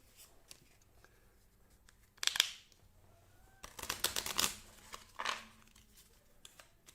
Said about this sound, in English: Just another deck of cards to shuffle.